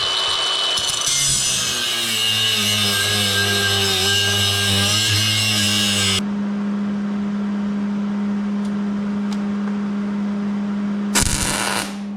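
Metal wheelie bar parts for a Nova are cut off with a power tool, a loud continuous grinding hiss for about six seconds, followed by a steady lower hum and a brief final burst.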